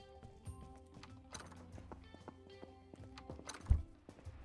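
A horse in the video game Animal Shelter clip-clops with soft, uneven hoof steps and a brief whinny, faint and game-like, layered over quiet background music.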